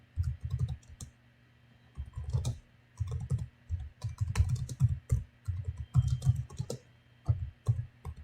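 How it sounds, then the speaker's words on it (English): Quick bursts of typing on a computer keyboard, clattering keystrokes close by in short runs separated by brief pauses, with no talk. "I'm going to type that in the chat here."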